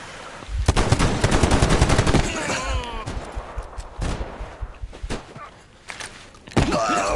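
Rapid bursts of automatic gunfire from a gun in the video game Metro Exodus crackle loudly in close volleys, broken by short pauses, with a creature's growls and game sounds between shots.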